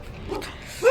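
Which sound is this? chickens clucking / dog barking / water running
dog barking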